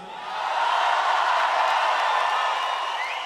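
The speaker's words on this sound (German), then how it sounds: "Also ich habe selten so einen müden Applaus und eine müde Zugabe gehört wie heute Abend" A concert crowd at a show in Leipzig gives subdued, steady applause with scattered cheers and whoops, a continuous wash of clapping that swells in and holds at moderate loudness.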